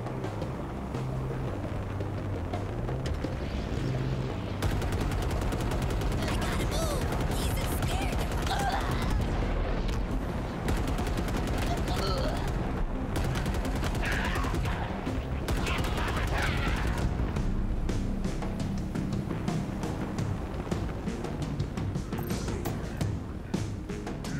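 Halo Infinite battle sounds: steady gunfire bursts and crackling shots with a dense game soundscape running throughout, loud and close.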